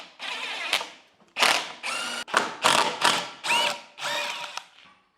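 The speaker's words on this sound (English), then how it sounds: "now I'm going to take the screws out of my support piece" A power driver backs screws out of a fireplace lintel support piece, giving a series of short whirring bursts of rising and falling pitch separated by brief pauses, close and fairly loud.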